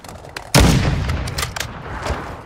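Gunfire in a shooter video game, one loud close shot followed by a string of lighter, more distant shots over steady background noise.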